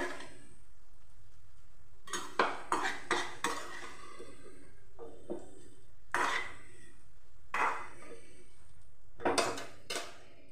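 Fried bitter gourd is lifted from a pan onto a plate in bursts of metal-on-metal scraping and clinking, several sharp clusters separated by short pauses, close and moderately quiet.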